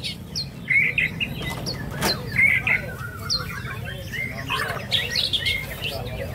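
A white-rumped shama (murai batu) sings at an outdoor songbird contest in a Palembang housing estate, giving bright repeated whistled phrases and chirps over a steady crowd murmur, with other birds calling around it.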